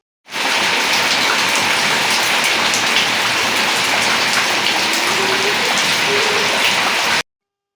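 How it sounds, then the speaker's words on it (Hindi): Heavy rain pours down in a dense, steady hiss, drumming on surfaces close by, starting abruptly and stopping suddenly. "और यहाँ पे घर पहुंचे ही थे और देखो कितनी जोर से बारिश हो गई।"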